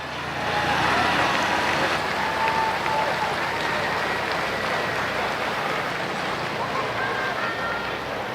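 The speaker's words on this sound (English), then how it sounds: "How about a tough luck round of applause for Davy Moore?" Crowd applause at a tractor pull during the Atlantic Pro Pulling event at the Great Frederick County Fair, a steady dense wash of clapping and cheering from a large outdoor audience with engine-like rumble underneath.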